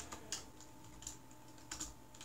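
A few quick keystrokes on a computer keyboard while typing terminal commands, three small clusters of close, crisp clicks in a quiet room.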